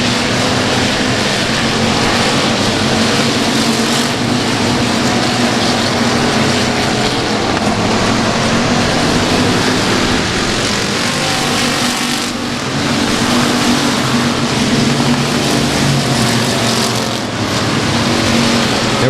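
Race cars roar down the front straightaway at Timberline Speedway, a continuous loud engine din with a brief dip and swell as the pack passes.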